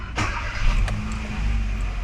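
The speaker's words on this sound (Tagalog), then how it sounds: "i-scan natin at i-start muna natin ngayon" A 2015 Kia Rio with its check engine light on, cranking and starting up close and loud, the engine catching quickly and settling into a steady low idle rumble.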